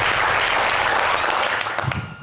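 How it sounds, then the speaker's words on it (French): An audience applauds for football player Cheikh Ivan, number 10, at a live event; dense clapping fills the room, loud at first and thinning slightly toward the end. "On applaudit pour Cheikh Ivan."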